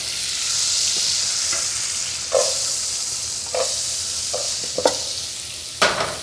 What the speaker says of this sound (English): I'm gonna add the onion right to the pot